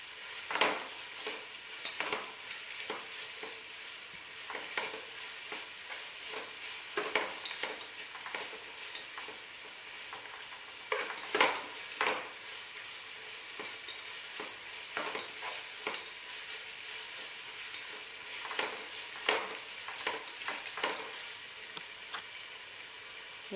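Onions sauté in a pan for ghee rice, making a continuous soft sizzle broken by repeated scraping stir strokes at an uneven pace, close and alone with no voices.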